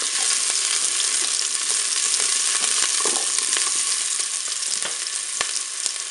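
Onions dropped into preheated oil in a Cookeo multicooker pot, a loud continuous sizzle with sharp crackles and scattered clicks of stirring, close and unbroken by speech.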